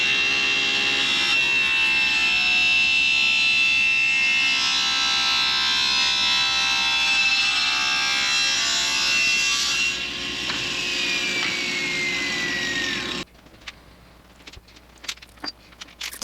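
A power saw, with the operator working slowly close to the blade, cuts through wood planks for a wall-mounted mini bar in a loud, steady whine that sags slightly near the end, then stops, leaving faint clicks and knocks.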